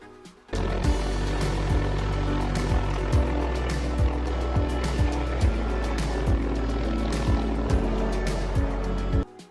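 A helicopter's rotor thumps in a steady, rapid rhythm over a loud continuous engine roar, close and with no voices.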